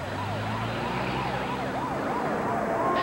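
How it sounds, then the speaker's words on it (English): Wailing emergency vehicle sirens sweep up and down continuously near a river rescue scene, loud and steady throughout with no talking. "Hearing the sound of sirens, Rick drove toward them"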